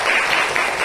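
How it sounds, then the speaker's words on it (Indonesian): Classroom applause after a student group presentation, a short burst of dense, close clapping from many hands. "beri tepuk tangan lagi"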